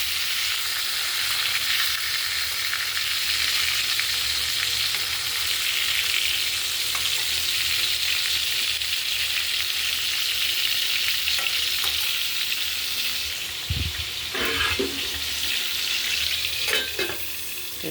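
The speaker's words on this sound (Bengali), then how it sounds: "আর এদিকে পটল ভাজা বসিয়েছি।" Large pointed gourd (potol) pieces fry in mustard oil, a loud, steady close sizzle that runs throughout, with a few clattering stirs and utensil knocks near the end.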